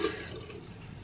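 Water runs steadily from a bathroom sink tap at low volume, a soft continuous splash with no voices over it.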